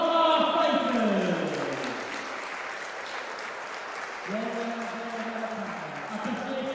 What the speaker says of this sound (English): please have a big round of applause for both of our fighters